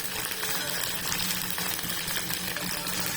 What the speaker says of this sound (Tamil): பூண்டு போட்ட பிறகு சின்ன வெங்காயம் கொஞ்சம் போட்டிங்கன்னா அந்த வெந்தயம் குழம்புக்கு வெங்காயம் தான் ரொம்ப ஸ்பெஷலு